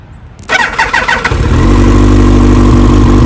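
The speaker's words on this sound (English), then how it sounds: "Start up the bike." A Yamaha R1 motorcycle engine cranks with a few quick chattering turns, then catches and settles into a loud, steady idle right up close.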